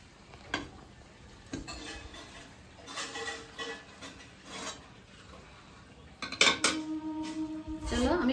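A cooked rice dish of broken rice being served onto a plate, the spoon scraping and clinking against the pot and the plate in scattered strokes. A louder clatter of metal sounds near the end.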